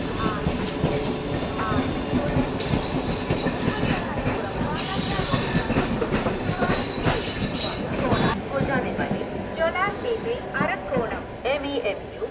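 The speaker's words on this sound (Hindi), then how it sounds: "हमारी ट्रेन अराइवल ले रही है काटपाड़ी जंक्शन में" An Amrit Bharat Express pulls into Katpadi Junction, its wheels squealing loudly and steadily over a low rolling rumble of railcars, with the screech fading near the end while people talk nearby.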